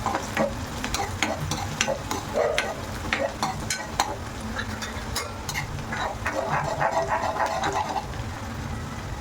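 Chopped onion frying over medium heat in a pan while a spoon stirs it, a steady close sizzle broken by frequent scraping and clinking strokes, with no talk.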